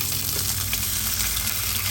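Bigeye fish frying in a wok over medium heat, a steady, dense sizzle of hot oil that stays even and close throughout with no talking.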